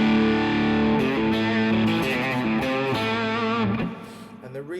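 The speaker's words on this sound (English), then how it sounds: "So the guitar I'm playing today is a PRS Custom 24 SE with coil" PRS Custom 24 SE electric guitar with its pickup coil split, run through a Quad Cortex modeler, playing sustained chords and melodic notes with a slightly driven, effected tone, loud and close with no talking.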